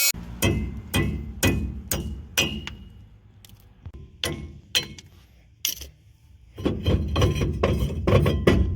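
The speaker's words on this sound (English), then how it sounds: "Now we get to pound them out." Old wheel studs are hammered out of a Duramax hub with a run of sharp metallic strikes. After a pause, a dense, quick burst of blows follows, close up and loud.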